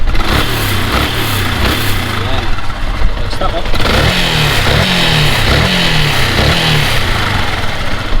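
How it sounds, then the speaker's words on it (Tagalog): A Yamaha Sniper 150 V1 motorcycle engine idles roughly, then revs repeatedly in rhythmic bursts, loud and close, with someone speaking briefly over it. "let's hear the scream of the engine"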